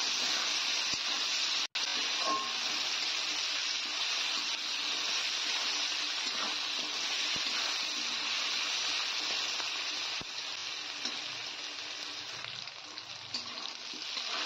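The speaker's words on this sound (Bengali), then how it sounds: "একসঙ্গে আলু আর পেঁয়াজটাকে ভেজে নেব।" Potatoes and onions frying together in a pan of oil give off a steady, close, even sizzle that lasts throughout, with a few faint clicks and no talking.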